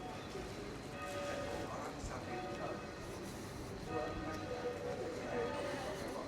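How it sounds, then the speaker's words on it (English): Church bells of St John the Baptist ring faintly in the distance over Halesowen town centre, steady outdoor street noise and a low murmur of activity filling the background. "The bells of St John the Baptist Church ringing in the distance."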